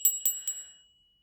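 A small silver bell bearing a pentacle star rings three times in quick succession, each bright, close strike ringing out before fading to silence.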